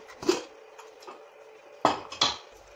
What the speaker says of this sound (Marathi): कुकर थंड झालाय, आता आपण हे उघडून बघूया।